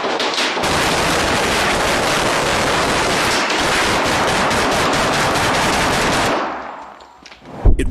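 Relentless automatic gunfire, loud and continuous for several seconds, then cutting off abruptly into near silence.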